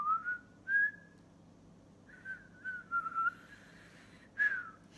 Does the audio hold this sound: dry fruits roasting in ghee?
no